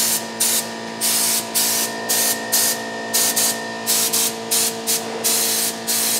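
A spray gun paints parts of a Farmall Super M tractor, firing short, loud hissing bursts in an uneven rhythm, about a dozen sprays, each cut by a brief gap.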